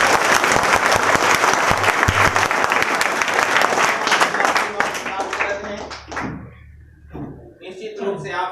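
Loud, dense applause from an audience at a religious martyrdom-day gathering, sustained for several seconds before thinning into scattered claps and fading.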